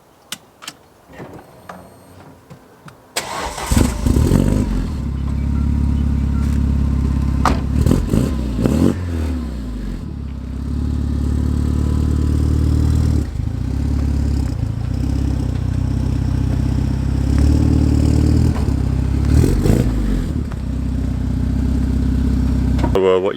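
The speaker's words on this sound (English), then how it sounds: "let's move the car" A car's engine cranks and fires after a short stretch of clicks and knocks, then runs and revs at a steady idle while the car is eased away from a curb, with the engine loud and close.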